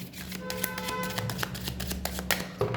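Tarot cards being shuffled and drawn, a run of soft riffling flutters and light taps close by, steady over a few seconds with a faint low hum underneath.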